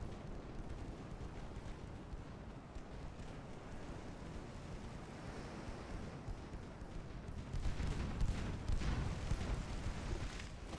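Distant artillery shells fire and rumble in a video game battle, a continuous low, muffled roar of blasts that swells louder toward the end, with no voices over it.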